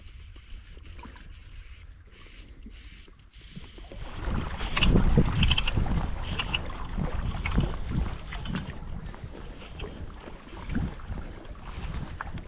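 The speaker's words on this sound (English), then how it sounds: "using the wind to your advantage, like I'm doing as a right-hander, with the wind blowing over the left shoulder" Wind gusts across an upland lake during trout fly fishing, swelling into a loud rushing rumble against the microphone after a quieter start, with no talk.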